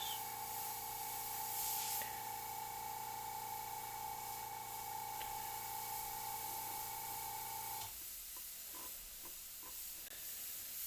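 An airbrush spraying soft upstrokes, a steady hiss over a constant tonal hum that cuts off abruptly near the end, leaving only faint clicks.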